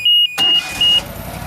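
Walker MTGHS lawn mower engine started with the key: three short, evenly spaced electronic beeps sound as the engine cranks and catches, then it settles into a steady, close idle under the repeating tones.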